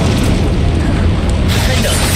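A loud, sustained explosive blast from the Confringo fire spell in the video game Hogwarts Legacy, a dense rumbling boom filling the whole clip with a brief shift in texture partway through.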